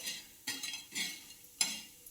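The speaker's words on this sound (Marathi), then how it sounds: "परत हे असे मिक्स करून घ्यायचं" Leftover pieces of bajra bhakri being stirred with salt in a pan, three soft scraping strokes of a utensil, close and quiet.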